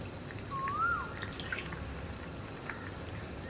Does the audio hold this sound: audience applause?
no